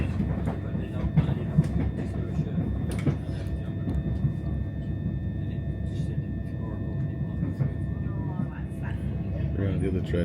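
A train runs on through Swale station without stopping, onto double track, its steady rumble and rhythmic wheel clatter heard from on board, continuous and fairly loud throughout.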